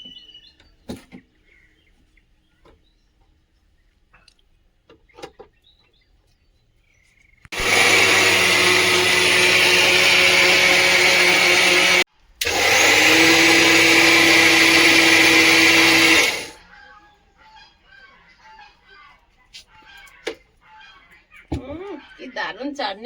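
A new mixer grinder blends mint leaf chutney in two loud, steady bursts of motor whine, the first about four seconds long and the second about four and a half, split by a short pause, with quiet room sounds before and after.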